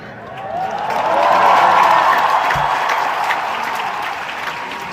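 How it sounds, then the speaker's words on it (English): A large audience applauds loudly, a dense sustained wave of clapping that swells and then slowly thins. "They're just clapping every time she stops talking."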